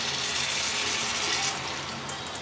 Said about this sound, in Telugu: చిన్న నిమ్మకాయ సైజు అంత చింతపండు తీసుకుని పులుసు వేస్తున్నాను